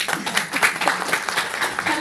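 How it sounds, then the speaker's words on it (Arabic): An audience bursts into lively applause for a woman, with a busy patter of many hands clapping and voices mixed in underneath. "صفقوا على هذه البطله"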